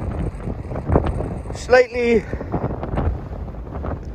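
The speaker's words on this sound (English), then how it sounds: "you won't hear me, but you will hear the wind." Strong wind buffeting the microphone on a crag on Middleton Crag, gusty roaring rumble throughout, with someone speaking briefly and a short tonal whine in the middle.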